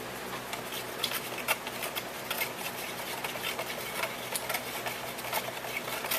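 Resin and hardener stirred together by hand in a cup, a steady close scraping and patter of the stick against the container with rapid irregular ticks throughout.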